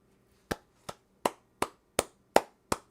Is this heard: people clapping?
yes